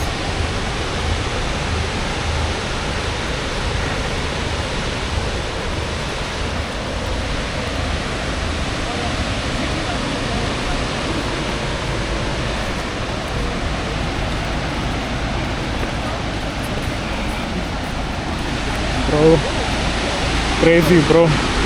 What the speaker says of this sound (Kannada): Welcome to Unchalli falls.